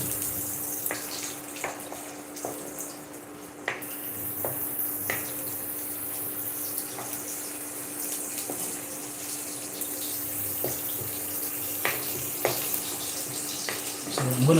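Green pepper sauce being stirred in a pot, with a steady watery, sizzling bubble and scattered soft clinks and scrapes of the spoon against the pot over about fifteen seconds.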